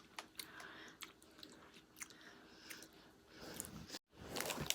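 Someone chews Japanese melt-in-the-mouth milk biscuits close up, with soft irregular crunches and mouth sounds spread across the stretch, quiet and with no talk.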